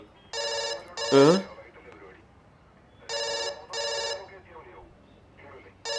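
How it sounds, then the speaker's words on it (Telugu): A phone rings in two pairs of short, bright bursts separated by quiet gaps, fairly close, with a brief vocal sound between the first rings. "ఫోన్ రింగ్ అవుతుంది కదా, తీ."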